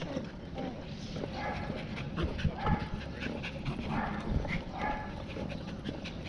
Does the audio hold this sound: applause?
no